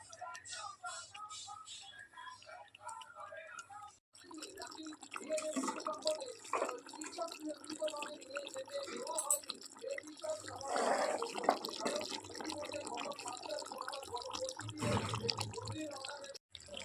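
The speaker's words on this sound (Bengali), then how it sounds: "এখন হচ্ছে জল দিয়ে দেবো পরিমাণ মতন" Hot water is poured into frying mutton curry in a pan, giving sizzling bubbling and splashing that rises in the second half, heard under someone speaking.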